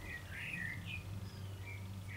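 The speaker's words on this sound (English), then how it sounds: "Can you hear that blackbird singing outside?" A blackbird sings outdoors at a distance, its faint, high warbling phrases repeating through a steady low background hum and room noise.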